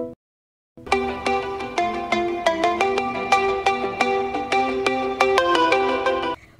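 A mobile phone rings for an incoming call: a bright electronic ringtone melody of quick repeated notes, loud and close, playing alone for about six seconds after a short silence.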